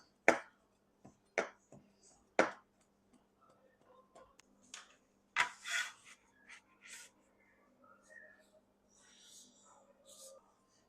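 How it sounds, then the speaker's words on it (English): A knife chopping chives on a board: a few sharp, distinct cuts spaced about a second apart, then softer, sparser taps, with quiet breathy speech in the background. "And then we're going to chop up some chives."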